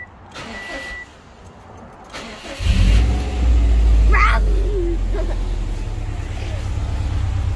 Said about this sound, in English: we're gonna start the engine and then just like kinda just hold the throttle down